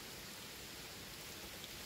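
Rain falls outdoors in a field in a dense, even hiss of steady drops, continuous and fairly faint with no voices.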